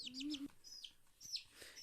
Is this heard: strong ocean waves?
no